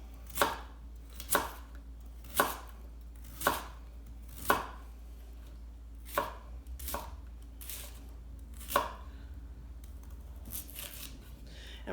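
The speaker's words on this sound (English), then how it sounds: "now that we've taken out the core, we're just going to thinly slice" A knife thinly slices a cored vegetable lengthwise on a cutting board for a roasted vegetable minestrone. There are about nine crisp, evenly spaced chopping strokes close up, with faint quieter cuts toward the end and no speech.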